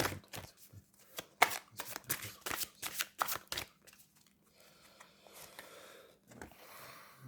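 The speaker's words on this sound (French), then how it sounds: "Je vais tirer deux cartes conseils pour vous." Tarot cards are drawn and shuffled for an advice reading, a close run of crisp riffling flicks and slaps in short bursts, then softer rustling as the cards settle, with no talking.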